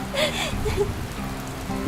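Cartoon rain effect: a steady, continuous patter of drops pouring onto a surface for the whole stretch, with a singing voice running over it.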